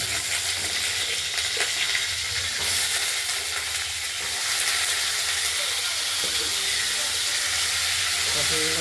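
Cut cauliflower frying in hot oil for a potato and cauliflower curry, giving a loud, dense, continuous sizzle and hiss that holds steady close by throughout.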